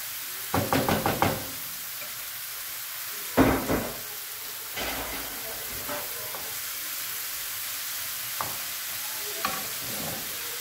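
Mushrooms frying in a pan on top of browned onion give a steady close sizzle, with a cluster of clattering stirring knocks early on and a few lighter taps later; no one speaks.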